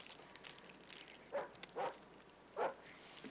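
A dog barks next door in a TV drama scene: three short, muffled barks spaced over a few seconds, fairly distant and soft against a quiet room.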